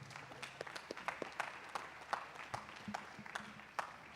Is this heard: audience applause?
yes